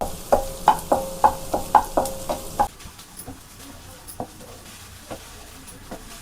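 Beaten eggs frying in two tablespoons of hot oil for street-style egg fried rice, with a run of quick, sharp metallic taps of a spatula followed by a softer sizzle and a few sparse clinks.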